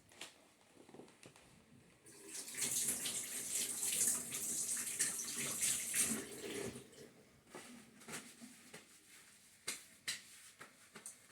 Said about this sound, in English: Guys, I'm going to wash my hands and I'm going to get straight to it.